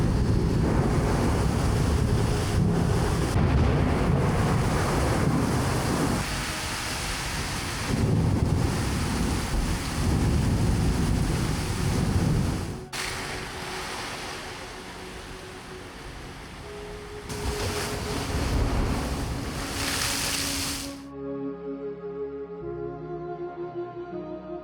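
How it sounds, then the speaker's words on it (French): Heavy rain pours down in a roaring downpour driven by gusting wind, loud and continuous with surging buffets, then cuts off abruptly near the end. "là c'est le déluge."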